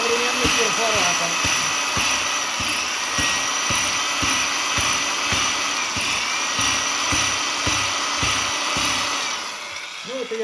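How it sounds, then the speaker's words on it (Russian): A modern rotary hammer drills into brick with a fast, even series of hammering blows under a high motor whine, close and loud and running steadily for about ten seconds before easing off at the end. "Вот вам современный перфоратор."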